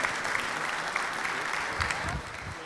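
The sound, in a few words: applause at a Rotary meeting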